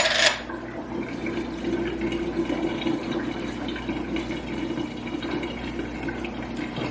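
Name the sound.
water being drained from a container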